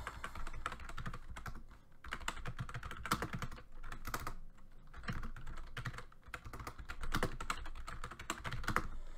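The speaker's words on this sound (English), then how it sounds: "type something in here" Someone types on a computer keyboard in a steady, close stream of clattering keystrokes, with short pauses between bursts and no talking.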